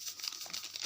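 A packet of yeast is torn open and crinkled as it is added to bread dough, giving a short burst of soft, close plastic crackling and rustling.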